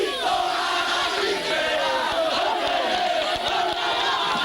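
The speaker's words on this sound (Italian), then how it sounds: "Tifosi dell'Arezzo e tifosi del Tonale stanno scaldando" Arezzo and Tonale football fans shouting and chanting in a stadium, a dense, loud, continuous crowd roar.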